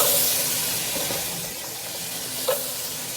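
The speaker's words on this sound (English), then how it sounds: "I'm going to use butter because I want the onion to fry" Onions frying in butter in a hot pan, a steady close sizzle with light stirring scrapes and a brief clink midway.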